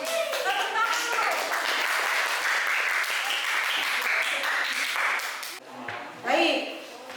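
Students in a classroom clap together after a group games activity, a fairly loud and dense burst of many hands with voices mixed in, which fades near the end as a voice speaks briefly.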